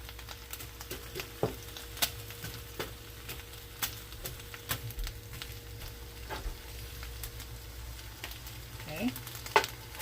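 Ham sizzles and crackles steadily in a hot pan as it chars for a grilled ham, egg and cheese sandwich, with a few sharper pops and utensil scrapes standing out over the constant frying hiss.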